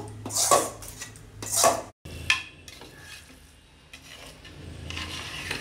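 Cooled pulihora rice being mixed with homemade spice powder, giving close scraping and stirring with a few louder clattering strokes early on, then softer, steady mixing without talk.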